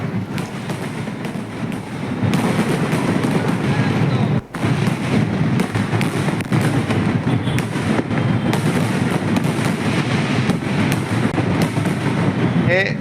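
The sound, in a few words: fireworks celebrating Diwali in the Middle East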